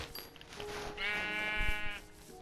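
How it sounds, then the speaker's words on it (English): A Minecraft sheep bleats once in a clear, wavering tone within the video game, standing out above faint background game sounds. "Sheep."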